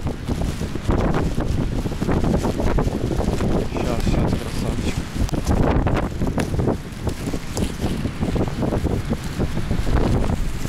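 Strong wind on a stormy January day in Alanya, Turkey, buffeting the microphone with a loud, continuous roaring rush that gusts and surges throughout, close and dominant.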